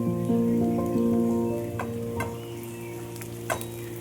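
Potatoes frying in a pan for sabudana khichdi, a steady soft sizzle with a few light clicks of stirring, close and moderately quiet, no talking.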